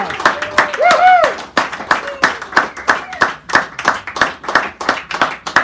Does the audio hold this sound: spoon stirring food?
no